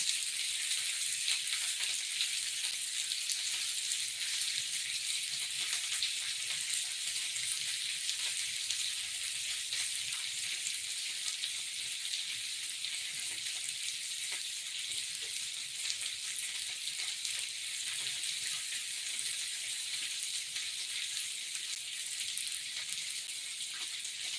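A continuous, even sizzle of chicken cooking on lower heat in a frying pan, close and steady throughout with a fine crackling hiss.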